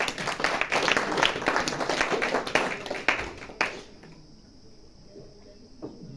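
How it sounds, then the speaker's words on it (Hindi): An audience at a Navratri camp motivational talk claps together loudly for about four seconds, then the applause stops abruptly, leaving quiet room ambience. "तालियां बजाओ उनके लिए।"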